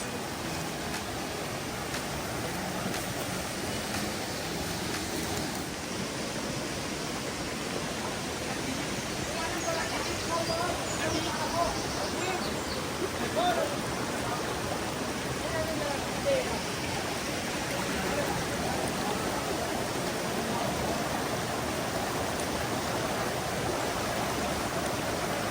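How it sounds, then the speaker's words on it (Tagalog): A small river running beside a hiking trail in Lebanon, giving a steady, dense rush of flowing water that holds even and full throughout, with no voices over it. "Dito lang sa maliit na river."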